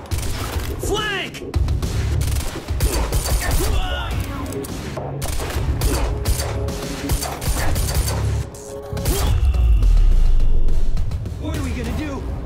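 Automatic gunfire fills a firefight in the video game Quantum Break, with bursts of shots, clanking mechanisms and impacts under shouted dialogue among characters.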